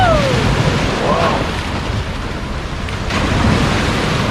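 Strong sea waves surge and crash at Bang Saen beach in Chonburi at night during a storm, a loud, close, continuous roar of surf with wind-like hiss and no speech.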